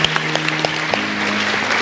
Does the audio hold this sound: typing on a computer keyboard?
no